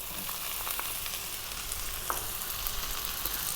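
Chopped celery sizzles in a hot pan for vegetable fried rice, giving a steady, close crackle and hiss with small pops and no talking.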